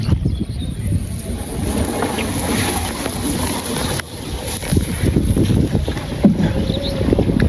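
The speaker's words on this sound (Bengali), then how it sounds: "যেমন বাতাস তেমন ধার, নৌকাটা বেয়ে নিতেই কষ্ট হইব।" A wooden boat being rowed on a windy river, with steady wind noise buffeting the microphone over soft water sloshing and paddle movement, continuous and close.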